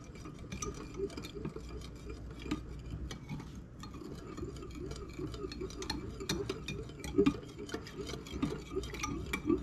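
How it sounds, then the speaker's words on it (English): Teriyaki sauce with minced garlic being whisked in a bowl, a steady run of rapid light clinks and stirring swishes that continues evenly for several seconds, close and moderately quiet, with no talking. "let's do some whisking"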